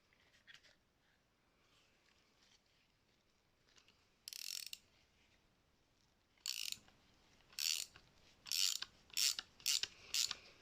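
Ratcheting wrench unscrewing locked nuts from an exhaust manifold stud on a 1.8 K-series engine in an MG F, with a rapid series of sharp metallic clicks that start sparse and quicken into regular bursts, close and fairly loud, without talk.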